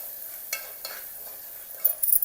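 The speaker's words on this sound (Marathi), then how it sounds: "मीठ चवीनुसार, मटण परतून घ्यायचं व्यवस्थित" Mutton is stir-fried in black masala in a pan, with a few soft scraping stirs and a faint sizzle over a quiet background, close and fairly low in level, ending in a brief cluster of clinks and scrapes.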